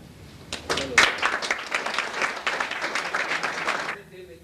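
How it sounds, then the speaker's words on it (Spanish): An audience applauds at an award ceremony honouring a nuclear scientist, a burst of clapping that swells and holds steadily for a few seconds before stopping abruptly, heard at moderate distance. "Yo quisiera un voto de aplauso para él."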